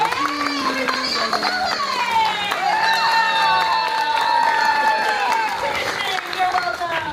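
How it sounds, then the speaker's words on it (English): A theme park horror make-up show audience at Universal Studios Orlando claps and cheers loudly, with whoops and raised voices layered over continuous applause for several seconds. "How about a nice round of applause for the host of today's show, Alex Ross?"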